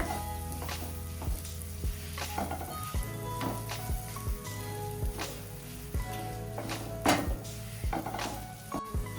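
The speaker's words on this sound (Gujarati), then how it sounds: "આપણે સક્કરિયાને બેથી ત્રણ મિનિટ સાંતળવાનું છે જેથી તે એકદમ સોફ્ટ થઈ જાય" Sweet potato sautés in ghee in a pan, giving a soft, continuous sizzle broken by repeated scraping stirs and light utensil knocks, fairly quiet and close, with no talking.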